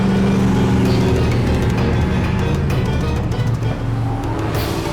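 A car engine runs steadily and loud throughout, a continuous low rumble with a faint brief rise near the end, consistent with a vehicle moving close by on a road.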